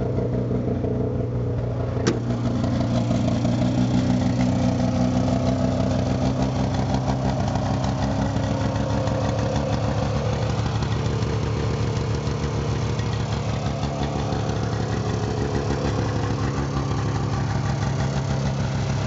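A Subaru 360 Sambar van's small engine idles steadily with a constant buzzing drone, heard close by and alone, with no talking.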